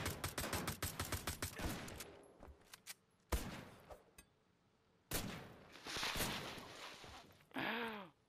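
A magical gun in Wolfenstein: The Old Blood fires a rapid burst of shots, then heavy blasts and a rising warbling effect, loud and close with no talk.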